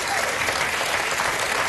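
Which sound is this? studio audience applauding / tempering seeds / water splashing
studio audience applauding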